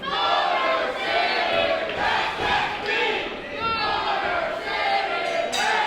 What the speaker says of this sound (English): Dueling chants here.